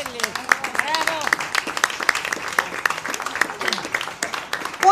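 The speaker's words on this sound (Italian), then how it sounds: "chiedo subito un applauso" Audience applause at a book festival in Polignano greets a visiting artist, with scattered sharp claps and voices calling out and talking over the clapping.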